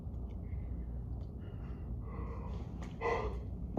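A person yawning quietly, a drawn-out breathy inhale and exhale ending in a brief voiced sigh, close and soft.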